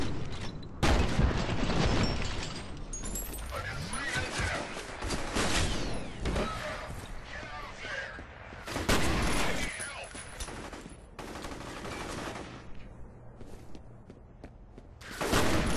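Rapid bursts of gunfire in the shooter game F.E.A.R., dense and loud across the whole stretch, with booming shots, mechanical clatter and scattered footsteps, and occasional voices mixed in.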